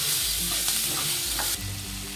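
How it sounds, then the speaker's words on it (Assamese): Tomatoes frying in a pan for an oyster mushroom dish, a dense continuous sizzle with faint stirring scrapes, close and steady throughout. "এয়া বিলাহীখিনিও খুব ধুনীয়াকৈ ভজা হৈ গৈছে, কোমল হৈ গৈছে।"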